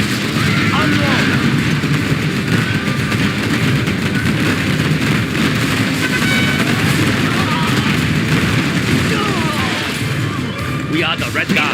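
A dense, continuous barrage of gunfire and explosions from a Chinese campaign battle in Command & Conquer Generals, loud and unbroken, with short unit voice lines mixed into the din.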